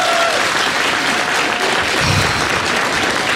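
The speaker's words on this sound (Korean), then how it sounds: "다시 한번 박수 부탁드리겠습니다" Audience applause fills a hall during a Korean political talk show, a steady dense clapping that carries on at an even level from start to finish with no talk over it.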